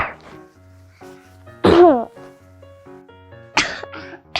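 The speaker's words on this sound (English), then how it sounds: "You have to cough with this part of your arm so it doesn't spread much to" A person coughs into the crook of their arm, a single sharp cough burst between stretches of calm talking, followed later by another short cough.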